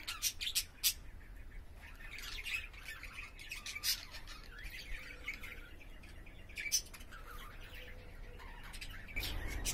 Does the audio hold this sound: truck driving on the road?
no